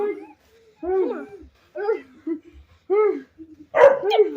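A pet dog barking at its owner in a cage at home, several loud close barks and yips in irregular bursts with brief gaps, mixed with whimper-like tones.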